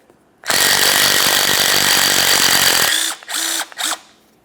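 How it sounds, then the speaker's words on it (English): A power tool runs hard on the center nut of a 2006-2011 Honda Civic front strut with a 17 mm socket, giving a loud steady whir for a few seconds followed by two short bursts. "Use a 17 millimeter on that center nut."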